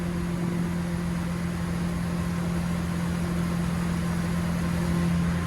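A MerCruiser 377 MAG 320 HP boat engine with a Bravo III drive on a Cobalt 24SD, running steadily at 2,800 RPM, giving a constant loud drone with a strong low hum.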